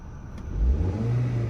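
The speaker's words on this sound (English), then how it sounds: "now let's hear what this inline-4 turbocharged engine sounds like." The inline-4 turbocharged engine of a 2020 Audi Q3 is revved once, its low hum swelling into a rising, fairly subdued drone that holds near the microphone without voices.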